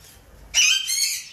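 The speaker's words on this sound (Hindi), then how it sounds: "मैंने एक जोड़ा यहाँ पर छोड़ दिया है लवबर्ड का" A lovebird in a new cage gives one short, sharp squawking call, loud and close after a near-silent moment.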